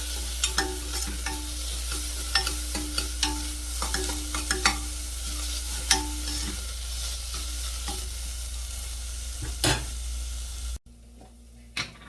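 Onions frying in a pan over a low flame, a steady sizzle with repeated close scraping stirs and clicks, then a sudden cut to near quiet near the end.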